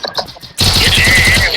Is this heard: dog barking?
no